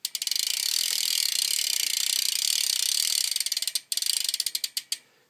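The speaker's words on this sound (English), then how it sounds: "I'll do a hub sound. This is just a standard Salt hub." Standard Salt BMX bicycle hub freewheel ratcheting in a rapid, dense stream of clicks up close. It briefly stops, then slows to a few spaced clicks, with no talking.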